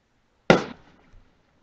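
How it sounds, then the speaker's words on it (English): A single sharp firework bang goes off, loud and sudden, then decays quickly with a faint smaller pop following shortly after, in otherwise near silence. "that was probably fireworks. I hope that was fireworks."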